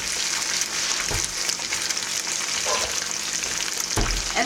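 Breakfast hash sizzling steadily in a pan as two eggs are added on top, a continuous close frying hiss with a couple of brief low knocks from the pan, no talking.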